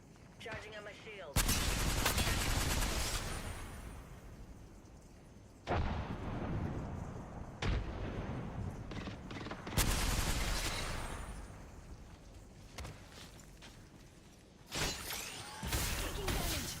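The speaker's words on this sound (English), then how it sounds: "Knuckle clusters firing." Knuckle cluster explosions firing in Apex Legends, heavy blasts and bursts of gunfire arriving in loud waves with brief quieter gaps, thick and booming over a continuous wash of game noise.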